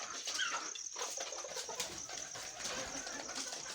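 Pigeons cooing and rustling close by amid a busy, steady background hiss, with a few sharp higher calls; no speech.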